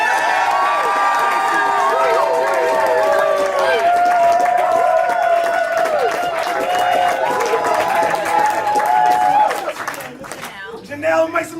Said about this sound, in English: make some noise for Stacy